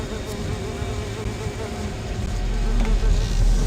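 Bees drone in a continuous low buzz, steady and close, slowly growing a bit louder toward the end with no voices over it, in the video game Sudeki.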